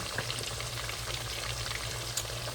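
Potatoes frying in olive oil in a pan, a steady close crackle and sizzle with soft popping, no voices.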